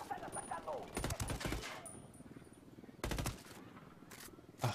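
Gunfire in the video game Ghost Recon: Wildlands: two short, sharp bursts of rapid shots about two seconds apart, fairly close, with a single faint shot near the end over a low background.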